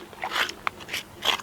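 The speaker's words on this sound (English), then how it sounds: "this is where the spoon comes in so handy. I'm going to turn this around because I'm right-handed, and we just scrape that right down." A spoon scrapes down the inside of a cleaned fish, giving four or five short, wet, crunchy strokes in quick succession, close and fairly loud.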